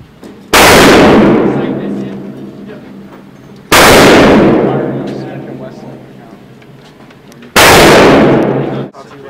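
Three loud, close pistol shots ring out at a gun range, evenly spaced about three seconds apart, each one a sharp crack followed by a long decaying echo.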